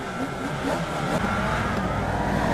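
A Formula Vee race car engine roars at a race start at Alton Park in iRacing, a dense, steady buzz from close by with the pack building speed together, with no talk.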